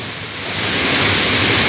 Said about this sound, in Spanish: Estamos en la cascada de la Golondrina